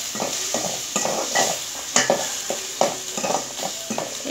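Masala paste sizzling and being stirred in a pan for hilsa curry, with a steady frying hiss and repeated scraping stirs throughout, close and fairly loud, with no talking.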